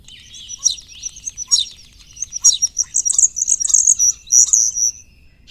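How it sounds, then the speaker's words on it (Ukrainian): A starling sings a lively run of high whistles, clicks and chirps, clear and close, with short pauses between bursts. "Послухаємо, як співає шпак."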